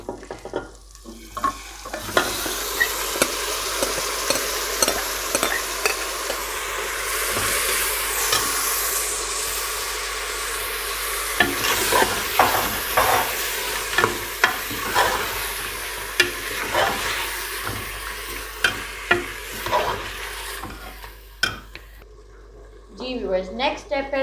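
Mutton marinated for eight hours for Shikarpuri gosht fries loudly in a pan, a sustained sizzle under repeated scraping and stirring strokes, close up, with a voice talking over the cooking before it tapers off near the end.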